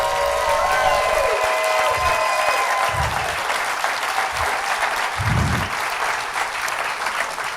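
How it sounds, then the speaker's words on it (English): An audience applauds the crew and sponsors at a comedy cabaret show, loud, dense clapping with some cheering, sustained throughout with a few low thumps. "Round of applause."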